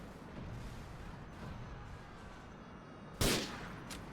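A single sharp gunshot at a dish in a video game cracks out near the end over a steady low background hum, loud and abrupt against the quiet bed; no one speaks.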